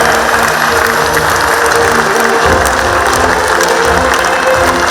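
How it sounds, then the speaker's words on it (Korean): A seated audience applauds loudly and continuously at a joint declaration signing ceremony between POSCO and its partner companies, a dense, even clapping that fills the room without letting up. "참석자 여러분, 다시 한번 큰 박수 부탁드립니다"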